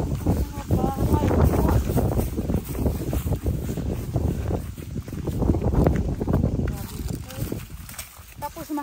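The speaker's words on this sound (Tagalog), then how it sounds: "Tapos mahangin pa kuya." Gusty wind buffets the microphone in loud, uneven rumbling blasts while people talk underneath it, outdoors on a large farm.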